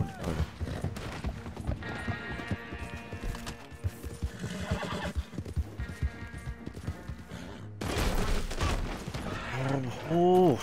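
Hooves clip-clop in a rapid, uneven gallop, and a horse whinnies loudly near the end over a bed of Red Dead Online game sounds.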